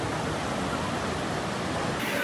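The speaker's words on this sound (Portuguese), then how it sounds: "Tá passando um rio aqui dentro da casa aqui." Floodwater from intense rain rushes through the inside of a house like a river, giving a steady, dense roar with no breaks.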